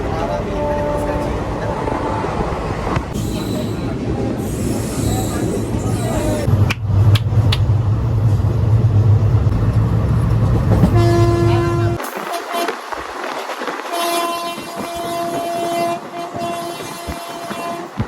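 Inside a nearly empty general coach of a moving train, the rumble and rattle of the carriage run loudly beneath a voice, then drop away to quieter station sounds with a tonal horn or signal.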